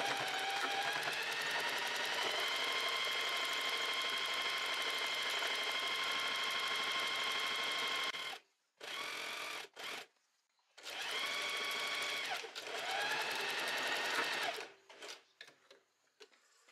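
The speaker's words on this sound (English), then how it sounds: "So I'm gonna start sewing here relatively close to the edge." A sewing machine stitches a blouse seam close to the fabric edge, running in a long steady whir, then stopping and restarting in short bursts with brief pauses before a final stretch of stitching.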